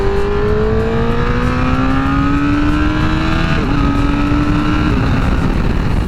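A 2019 Honda CBR1000RR engine pulls up through its rev range, a loud close drone rising steadily in pitch, then a brief shift and another climb, with no voices over it.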